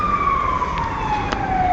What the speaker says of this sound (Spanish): suena una sirena, una ambulancia pasa cerca de la Biblioteca Nacional